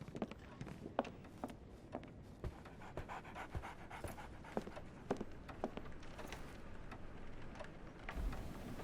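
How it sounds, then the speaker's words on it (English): A dog pants in the Sherlock Holmes The Awakened video game, quick rhythmic breaths repeating steadily at close range over a low ambient background, with no talking. "So, Barnes has a dog now."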